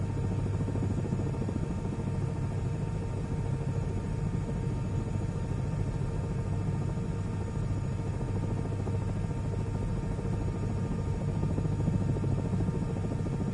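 A helicopter in the video game Microsoft Flight Simulator gives a steady low rotor-and-engine drone with a rumbling hum, unbroken from start to end.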